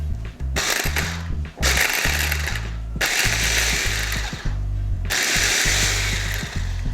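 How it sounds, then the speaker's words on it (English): Food processor pulsing fresh garlic, several bursts of loud whirring blade noise with chopping rattle, separated by brief pauses, close up. "this one will be on pulse rather than puree. So we'll pulse this."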